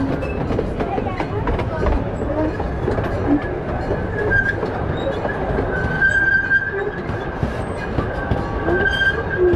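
An amusement park train ride at Kemah Boardwalk rumbles along steadily with rhythmic wheel clatter and occasional faint squeals, continuous and close by throughout.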